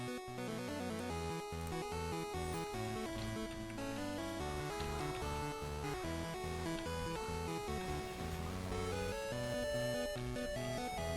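Fast 8-bit Game Boy style chiptune video game music plays loud and continuous, with bright stacked square-wave melody over a bouncy bass line and no pauses.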